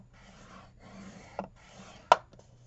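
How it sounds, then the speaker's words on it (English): Paper being scored with a tool while making an envelope: three soft rubbing strokes followed by a sharper tap, close and quiet with no voices. "turn our paper and score on the 6 3/4 inch side at 5 3/4"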